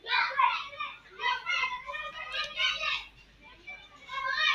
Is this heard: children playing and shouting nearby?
yes